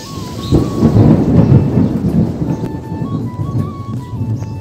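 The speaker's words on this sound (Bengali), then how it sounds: "আমি অনেক ভয় পাই বজ্রপাতকে" A thunderstorm rolls with loud, sustained thunder and steady rain in rural Bangladesh-style countryside, a deep rumble swelling early and then easing into a continuous wash of rain, heard from indoors or a doorway.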